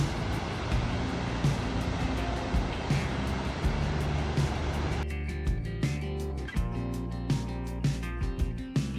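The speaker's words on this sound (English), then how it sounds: "It was very tall and gushing lots of water, so a fun quick stop." A tall waterfall gushing lots of water, a loud, steady roar heard close up without a break, with some faint clicks and thumps in the background partway through.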